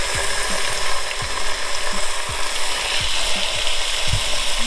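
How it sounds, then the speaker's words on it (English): Vegetable oil heats in a pan before searing short ribs, giving a loud, steady hiss and crackle broken by a few short clinks and knocks. "We're gonna start out with sear the meat. So we're gonna add, I'm adding some vegetable oils in here and let it heat up for about 30 seconds."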